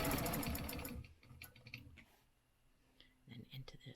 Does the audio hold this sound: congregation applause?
no